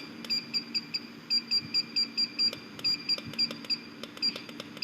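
A UV curing unit for 3D-printed parts gives a run of short electronic beeps as its timer is set, the clear, evenly spaced tones sounding close over a faint background hum.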